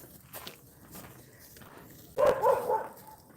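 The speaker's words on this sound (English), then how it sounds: "And we have the dog that doesn't get walked, right? Out there barking." A dog left outside in a suburban yard barks in one short, fairly loud burst near the end, after a stretch of quiet outdoor background.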